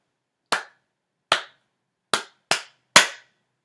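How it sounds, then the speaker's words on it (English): Five sharp hand claps in a music class lesson, close and clear, in an uneven rhythm: two spaced claps, a pause, then three quicker ones, with silence between. "I am going to clap this 2 times, just like before"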